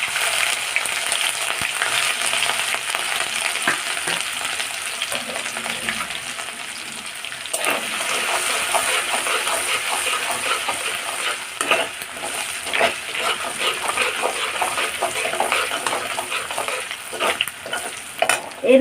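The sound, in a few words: frying spice tempering with chopped ginger and green chili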